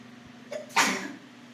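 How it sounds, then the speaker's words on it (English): A single sharp sneeze set off by black pepper while cooking the national dish of St. Kitts & Nevis, preceded by a brief intake of breath and followed by a fading tail, close and loud against a quiet room with a low steady hum. "Black pepper always does that to me. Makes me sneeze."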